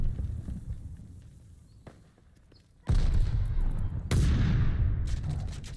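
Two heavy grenade blasts in a trench-combat video game, each a sudden loud boom with a long roaring tail, the second following about a second after the first.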